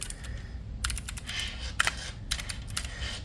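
A Keychron Q4 mechanical keyboard being typed on: close, crisp clacking in two dense bursts separated by a brief pause, with no one talking.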